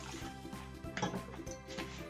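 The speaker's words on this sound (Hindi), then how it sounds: "थोड़ा सा पानी डालेंगे" A little water is poured into a semolina and homemade yogurt batter, giving a soft liquid trickle and splash, close and fairly quiet, with some faint clinks and no speech.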